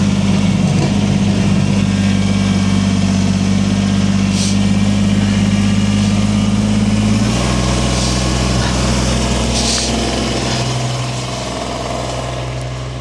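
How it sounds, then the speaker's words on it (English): Tractor engine running steadily in four-wheel drive while backblading snow after a 2026 snowstorm, a loud continuous low drone that drops in pitch partway through and eases slightly toward the end. "let's start backblading some with the tractor"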